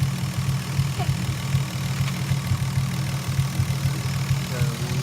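Turbocharged Lexus IS 300 idling steadily with a low, even rumble, close and continuous throughout with no voices.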